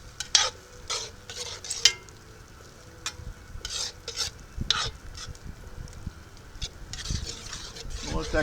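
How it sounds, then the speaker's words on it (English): Sauce with sun-dried tomatoes and alcohol simmers in a pan over a campfire for buttery garlic catfish, a soft sizzle and bubbling broken by repeated scraping and stirring strokes, close by and fairly quiet. "Let that cook down a little bit, get that alcohol cooked out of there."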